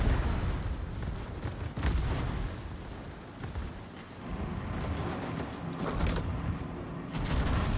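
Heavy battleship gunfire from the World of Warships game, with a Tier 9 Spanish battleship Victoria firing in bursts: dense, continuous booming blasts and rumble that swell and fall over several seconds, loud and close, with no talk.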